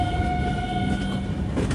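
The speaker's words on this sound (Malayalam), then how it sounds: "ട്രെയിൻ അങ്ങനെ എത്തി" The Rapti Sagar Express pulls into the large Gorakhpur railway station with a steady, close rolling rumble and faint sustained tonal squeals from the wheels, continuing without a break and with no voices.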